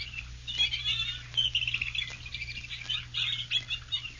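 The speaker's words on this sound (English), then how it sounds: "The birds of the swamp. Hear it?" Many swamp birds chirping and calling at once in the distance, a continuous high twittering chorus over a low steady hum.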